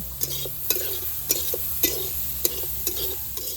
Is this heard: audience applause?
no